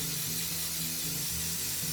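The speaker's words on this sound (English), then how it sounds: "I use this spray oil. It's Pam." Pam cooking oil spray misting over cornflake-coated chicken thighs, a steady close hiss running the full two seconds over a low background hum.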